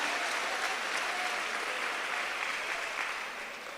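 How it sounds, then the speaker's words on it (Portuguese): Steady applause in praise from a church congregation, a dense even wash of clapping that holds for several seconds before easing slightly at the end, with no talk over it. "Se tem alguém aqui em casa, dá glória, aplaude ao Senhor, louva a Jesus."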